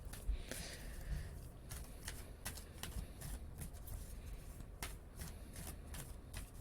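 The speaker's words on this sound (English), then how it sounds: "So I'm shuffling the cards a few more times here." Tarot cards being shuffled by hand, a steady run of soft riffling and flicking close up, fairly quiet, with no talking.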